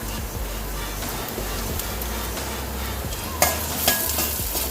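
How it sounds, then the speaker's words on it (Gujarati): Finely chopped onions fry in oil in a pan, a constant close sizzle broken by scraping spoon strokes and a couple of sharper clatters as they are stirred. "તો હવે કાંદા પણ ફ્રાય થઈ ગયા છે, એનો કલર પણ ચેન્જ થઈ ગયો છે."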